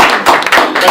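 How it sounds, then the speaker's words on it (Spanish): An audience applauding at a book talk in Spanish for the book "A la cárcel", heard as a brief, loud, close burst of dense clapping. "Para que se graben los aplausos."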